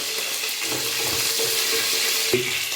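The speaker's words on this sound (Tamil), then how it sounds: "வெந்தயம் லைட்டாக பொரிய ஆரம்பித்ததும் நம்ம அதில் எடுத்து வச்சிருக்க கருவேப்பிலையையும் பச்சை மிளகாயையும் சேர்த்து கிளறி விடணும்" Fenugreek seeds, curry leaves and green chilies crackle and sizzle in hot oil in a pan, a steady bright frying hiss with a few stirring scrapes and one sharp clink near the end.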